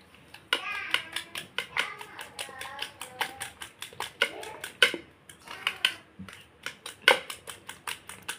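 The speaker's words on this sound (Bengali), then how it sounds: "তো এখন ডিম আর চিনিগুলোকে ভালো করে ফেটিয়ে নিব।" Eggs and sugar are beaten by hand in a bowl, a quick irregular run of sharp clicking and tapping strokes heard up close with brief pauses between bursts.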